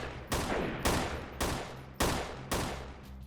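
Submachine gun fire in the PC game Freeman: Guerrilla Warfare comes as five short bursts at fairly even intervals, each with a quick decaying tail, sounding somewhat distant.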